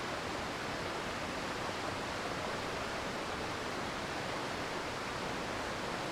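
A waterfall pours out a constant, dense roar of rushing water, loud and unbroken, with no voices.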